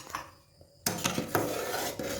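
A metal spoon or ladle scrapes and knocks against a pot as milk is stirred over low gas heat, a few close clinks and scrapes with no talking.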